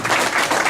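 An audience at a poetry recital applauds a poet, a brief burst of dense, steady clapping filling the whole moment without any voices.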